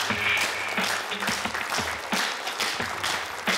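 An audience claps steadily and fairly loudly throughout, a dense continuous patter of many hands at a Kazakh stage event, with no voices standing out.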